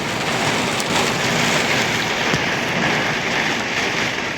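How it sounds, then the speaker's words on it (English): Steady rain falling outdoors, a dense continuous hiss with no break or speech over it, close and fairly loud throughout. "So you're gonna be watching the rain."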